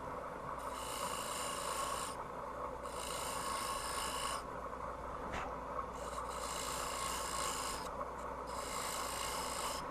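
Woodturning tool scoring a spinning workpiece on a lathe, four rhythmic rasping scrapes of a couple of seconds each, separated by short pauses, over the steady low hum of the machine.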